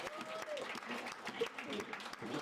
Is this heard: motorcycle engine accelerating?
no